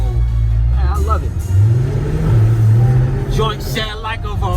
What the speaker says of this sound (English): Exhaust is crazy on sport mode.